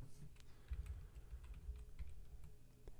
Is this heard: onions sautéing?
no